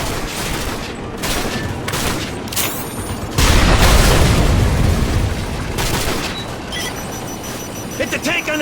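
Explosions and cannon fire strike tanks on a street in the Call of Duty Modern Warfare video game: heavy, loud booms and dense battle noise build to a powerful blast midway, then settle into rolling rumble with scattered sharper impacts.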